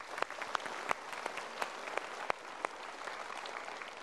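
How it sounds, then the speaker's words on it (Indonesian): Audience applause at a motivational seminar, a steady patter of many hands with a few sharper individual claps standing out, moderately distant and continuous without talk. "kita berikan tepuk tangan"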